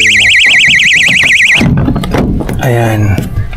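An emergency glass-break hammer in a Foton Traveller X 2024 van sounds a loud, rapidly warbling electronic alarm for about a second and a half when pulled from its holder, then a person talks.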